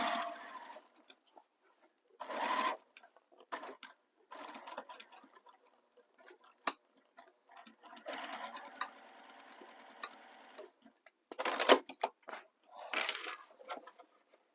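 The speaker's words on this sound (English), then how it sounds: "So starting where I stopped previously, and I'm just going to sew straight across." A sewing machine stitches a straight seam across a handmade bag in quiet, stop-start bursts of rapid mechanical chatter, with short pauses and soft handling clicks in between.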